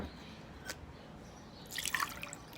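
Liquid poured over an egg, a short splattering, trickling burst near the end after a faint drip, up close and quiet with no talking.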